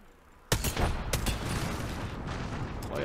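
Two sharp gunshots ring out in Apex Legends during a firefight, the first hard crack bursting in after a quiet start, a second following moments later, then a dense rumble of game noise that continues without speech.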